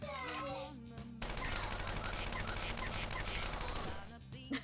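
Rapid automatic gunfire from a battle in the video game Persona 5 Royal rattles in a dense, continuous burst lasting about three seconds. Game music and effects sit before and after it, with some voice-like sounds in the mix.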